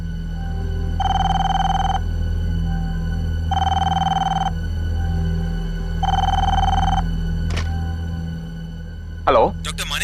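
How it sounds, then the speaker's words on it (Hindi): A telephone rings in three evenly spaced electronic bursts over a low steady hum, followed by a short clatter at the end. "इतनी रात गई, किसका फोन है?"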